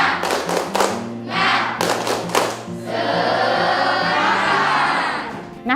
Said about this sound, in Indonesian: mari kita tepuk semangat